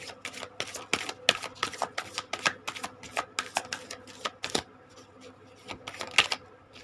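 Tarot cards are shuffled in quick, crisp riffles and taps, close and clear, with a rapid irregular rhythm that slows toward the end, without talking.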